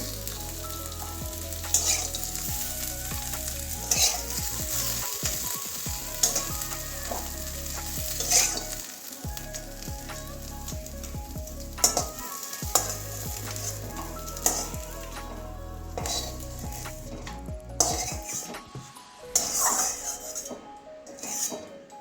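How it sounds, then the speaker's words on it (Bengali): Black cumin seeds frying in a pan during Bengali bitter gourd cooking give a loud, continuous close sizzle, with occasional scraping stirs and light clinks of a utensil against the pan. "তাহলে কালো কালো জিরেটাও ভাজা হয়ে যাবে"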